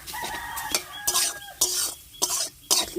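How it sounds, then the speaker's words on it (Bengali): Ground lentil paste fried and stirred in a pan: a spoon scrapes and knocks against metal in uneven bursts, with clinks between strokes and a faint whistling tone early on. "ভালো করে একটু জোর জোড়ো করে ভালো করে ভেজে নেব"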